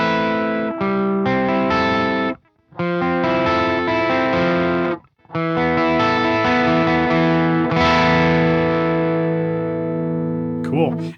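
Electric guitar through a Bogren BDM Ampknob amp plugin with the gain raised, crunchy distorted chords and riffs ringing loud and near, with brief pauses between phrases.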